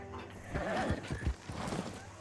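Hoofbeats of a galloping horse in the open-world western game Red Dead Redemption 2, a quick run of heavy clip-clop thuds with a brief whinny, sounding mid-distance above a low game soundscape.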